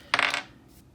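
A die clattering briefly against a hard surface, a quick close rattle of a few taps that fades out in under a second.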